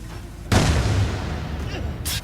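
A bomb blows up in the video game Assassin's Creed IV Black Flag, a sudden loud boom with a rumbling low tail lasting over a second, followed by a brief sharp burst near the end.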